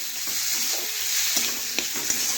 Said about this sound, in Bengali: দেখুন নাড়াচাড়া করে কষিয়ে নিলাম